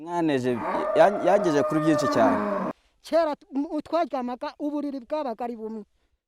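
A cow on a family farm in Rwanda lows with a long, wavering call for about two and a half seconds, then a person speaks in short phrases after it stops.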